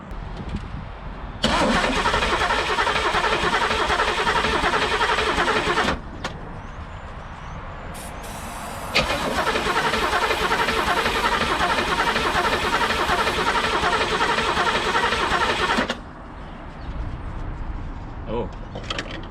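1985 Pontiac Trans Am 5.7 engine cranking without firing, two long loud starter bursts of rapid churning separated by a brief pause, each cutting off abruptly, with quieter background between.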